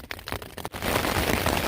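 Heavy rain drums on a tent during a thunderstorm in the Three Sisters Wilderness on the Pacific Crest Trail. It builds from patchy patter into a loud, steady hiss at close range, with no talking.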